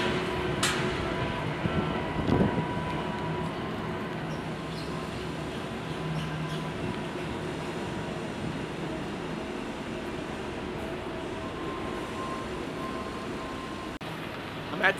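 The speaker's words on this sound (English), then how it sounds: "Gonna take the train to the city." Steady rumbling drone inside a commuter train heading into the city on a morning ride, a continuous mid-level roar with faint clicks and a few brief knocks, heard alone without talk.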